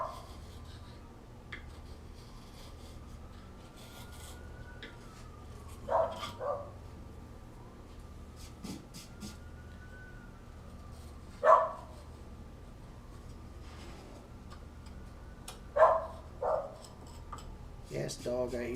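A dog barks a few scattered times, fairly distant and faint, over a steady low hum in a home workshop during a live woodworking stream, with occasional quiet handling noises between the barks.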